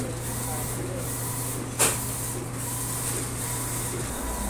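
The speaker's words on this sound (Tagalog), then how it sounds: "ito naman po ang aming DTF machine, ang malaking DTF machine namin. Working." Large DTF printing machine working in a shop, giving a steady mechanical hum and hiss with one brief sharp click, and muffled speech in the background.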